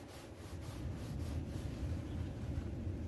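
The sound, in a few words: sponge rubbing off house paint transfer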